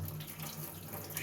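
Low-pressure water sprays across the fins of a reusable K&N/BMC car or motorcycle air filter, a soft steady hiss of running water, faint and close, with no pauses.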